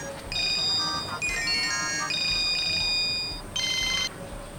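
A mobile phone rings with a bright electronic melodic ringtone, loud repeating tonal phrases with a short gap before the tune restarts, heard alone without talk.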